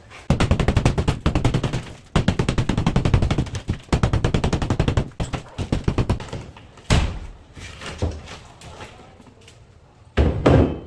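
Loud, rapid rattling bursts of a Hilti drill boring into a concrete ceiling during demolition, running in long stretches with brief pauses and a final short burst.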